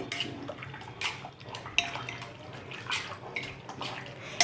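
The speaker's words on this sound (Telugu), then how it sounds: "ఇట్లా వేడిగా ఉన్నాయి కదా నీళ్ళు ఇట్లా ఒకసారి కలిపేయాలి" Hot water being swirled while steel utensils are washed, close splashing and sloshing with metallic clinks and clatter of the vessels, steady and fairly quiet, without speech.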